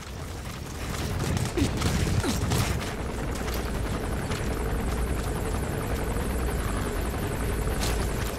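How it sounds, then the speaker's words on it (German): Helicopter circling over an area in the game Metal Gear Solid V, its steady rotor drone filling the scene at a constant, fairly loud level with a brief swell early on. "Sonst würde ja wohl der Helikopter hier nicht drüber fliegen, der alles beobachtet."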